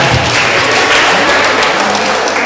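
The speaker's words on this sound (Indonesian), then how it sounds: "Tepuk tangan lagi Bapak Ibu" An audience of teachers claps continuously at a Teachers' Day event in an Indonesian high school hall, a loud, close, dense wash of applause with no pauses throughout.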